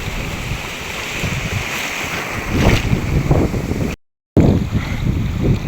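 Large waves at high tide surge and crash nearby amid steady wind rumble, with a brief dropout partway through before the rough water returns.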